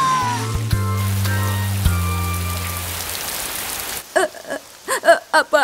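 Rain falls steadily in an animated children's cartoon, a dense wash of drops under a few tonal cartoon sound effects for about four seconds, then breaks off into a short quiet stretch with brief voiced bursts.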